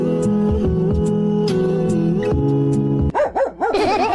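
A dog barks and yips sharply in a short burst near the end, breaking in after a steady tonal stretch; two cats are nearby.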